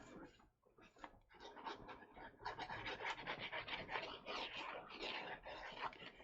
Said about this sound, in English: let me add the glue here.